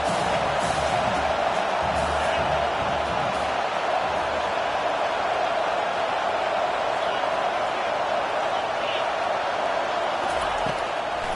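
Stadium crowd roaring at a college football game as the defense faces third down, a loud sustained wall of cheering that holds steady throughout, with a commentator's voice running beneath it.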